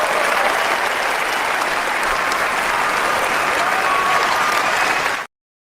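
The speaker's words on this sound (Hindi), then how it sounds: "ये तालियां गलत टाइम पे चली हैं यार" An audience at a debate breaks into dense, steady applause that holds at an even level for about five seconds, then cuts off abruptly into silence.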